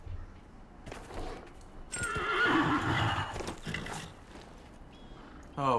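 A horse in Dragon Age Inquisition gives a loud, drawn-out whinny over clip-clopping hooves, with a few sharp impacts nearby.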